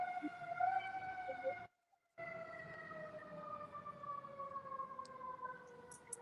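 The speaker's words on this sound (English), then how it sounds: "I'm so Baltimore. I know what siren that was. That was a fire truck." A fire truck siren passing in Baltimore wails in a steady, slowly falling tone, fairly faint and distant, with a brief dropout partway through.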